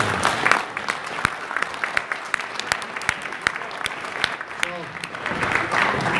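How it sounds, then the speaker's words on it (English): Audience at the International Video Game Hall of Fame 2017 award ceremony claps steadily for about six seconds, a dense patter of hands with scattered louder claps, while a voice speaks faintly underneath. "let's have a round of applause."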